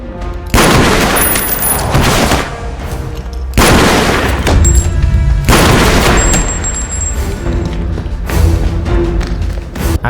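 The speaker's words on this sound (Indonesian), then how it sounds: "Aksi baku tembak pun terjadi di dalam gedung kosong tersebut." Gunfight inside an empty building in an action film, loud bursts of gunfire and heavy booms in long dense blocks with short quieter gaps between them.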